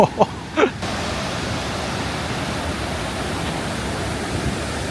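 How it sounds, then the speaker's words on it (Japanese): A large waterfall in Africa, heard as a steady, dense roar of falling water that fills the whole scene. Two brief knocks come near the start, and after that the rushing sound holds even and unbroken. "この辺から滝の音と水しぶきが感じられるんですけど、これはすごいですね。"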